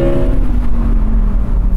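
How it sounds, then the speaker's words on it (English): Audi R8 Spyder engine bogging on a launch attempt with its wheels spinning, a loud steady low drone with a faint tonal hum that holds flat without rising, running alone throughout. "There, hear that bog?"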